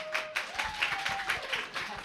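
Audience in a church applauds, a steady patter of many hands clapping at moderate distance, with a faint sustained tone underneath.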